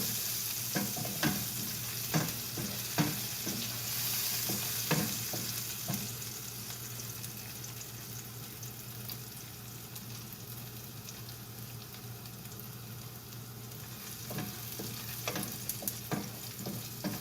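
Garlic frying over medium heat in a pan gives a soft, continuous sizzle with scattered light clicks and scrapes of stirring, fairly quiet and steady throughout.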